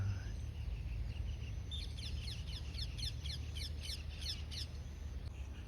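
A parrot squawks in a rapid series of harsh, rhythmic calls that sit in the middle of the clip. They come through moderately close over a steady low hum on a foggy village morning.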